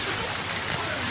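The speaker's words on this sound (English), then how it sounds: "It's pouring rain" Heavy rain pours down steadily in a flood-damaged neighborhood being rebuilt, a dense, continuous hiss of water striking surfaces close by with no pauses or voices.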